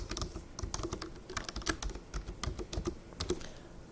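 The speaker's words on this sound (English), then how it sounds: "I'm going to type in my password" Rapid keystrokes on a computer keyboard as a password is entered into NCR Counterpoint software, an uneven run of close, crisp clicks lasting several seconds with no talking.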